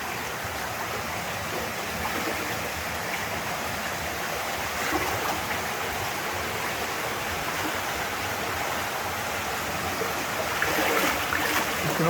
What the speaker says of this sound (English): the water is flowing and how deep it is